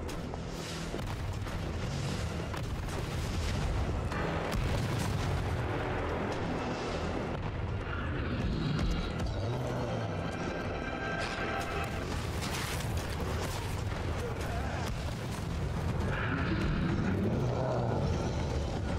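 Rocket launcher blasts and heavy explosions in Resident Evil 3 roar in a long, loud, rumbling mix, booming bursts rising and falling over a constant background roar.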